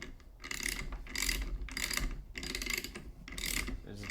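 A ratchet clicks as it unscrews part of a 2018 Tacx Neo bike trainer during maintenance, giving close, rapid bursts of pawl clicking in several strokes with short pauses between.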